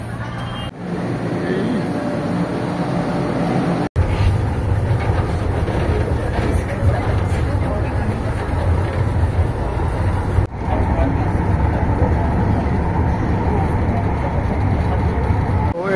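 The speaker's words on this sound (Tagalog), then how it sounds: "So papasok na tayo ng LRT station." A steady roar of rail machinery fills an LRT-1 light rail terminus station in Cavite, Philippines, with trains rumbling and rolling continuously, punctuated by a couple of sharp clunks.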